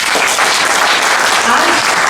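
Loud, dense applause from an audience at an Indian High Commission cultural event, a steady wash of clapping that fills the short stretch without a pause.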